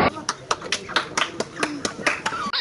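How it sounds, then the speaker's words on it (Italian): Wedding audience applause, a run of sharp, irregular hand claps at moderate volume with a few voices mixed in. "Accogliamoli con un grande applauso."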